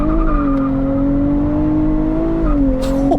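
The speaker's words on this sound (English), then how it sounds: "Pull both paddles simultaneously, left foot on brake. Launch control," A 2023 Nissan Z with an automatic gearbox holds its engine at a steady, loud hum on launch control, the revs drifting slightly before a sudden burst of noise near the end as it starts to launch.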